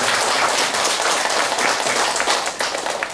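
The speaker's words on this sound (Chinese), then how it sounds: "我们再给果蝇法师最热烈的掌声" An audience claps continuously at a Buddhist master's talk, a dense, loud applause that stays strong throughout and eases only slightly toward the end.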